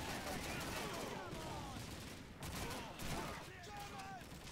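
Sustained gunfire rattles through a Call of Duty 2 battle, a dense, continuous fusillade of overlapping shots and machine-gun bursts filling the whole stretch with little pause.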